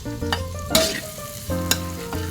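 Eel stir-fried with holy basil, chili and makrut lime leaves rattles and sizzles loudly in the pan, with steady frying hiss broken by several sharp scraping stirs.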